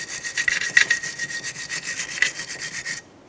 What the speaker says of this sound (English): We'll be using a wire brush for this.